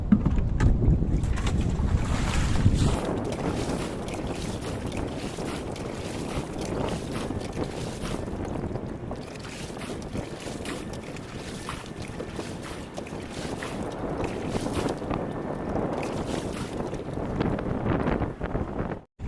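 A pump boat running on open water, with a continuous broadband engine and water rush, steady and close throughout with strong wind noise buffeting the microphone.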